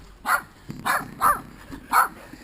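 Dogs bark four times in a steady series, fairly close and loud, during bicycle dog joring on a mountain bike trail in Paradise Valley Conservation Area, with no talk over them.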